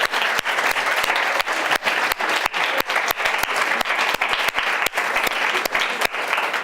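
Audience at an award ceremony applauding a prize winner: sustained, even clapping from a sizable crowd, with crisp individual claps standing out, loud and filling the room.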